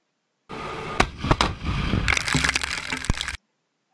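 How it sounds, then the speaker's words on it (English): M1 tank guns firing, a series of sharp heavy blasts followed by a dense crackling rumble of continued fire, loud and close, lasting about three seconds with no talk. "that's a lot of firepower that just came out of those tanks"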